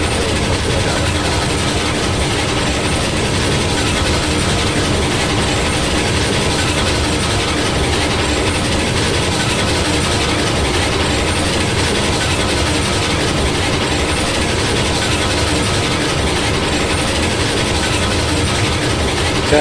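A train runs continuously in the video game Railroads Online, with a loud, steady rumble of engine and rolling stock and faint rhythmic wheel clatter throughout, and no talking.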